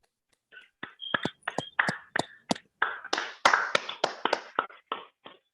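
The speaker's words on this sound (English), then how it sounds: "Let's give them a big round of applause" Scattered, uneven hand claps and taps from several participants on an online club call, close and crisp, building into a quick irregular patter for several seconds.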